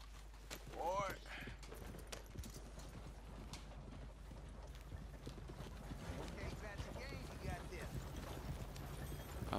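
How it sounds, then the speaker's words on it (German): Horse hooves clip-clop steadily in Red Dead Redemption 2 on PS4, a close, even walking rhythm with a brief whinny early on, heard under quiet talk. "Wir begeben uns zu unserem Pferd."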